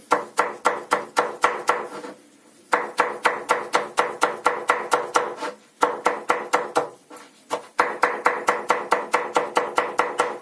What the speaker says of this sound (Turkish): Evet biberimi de doğradım.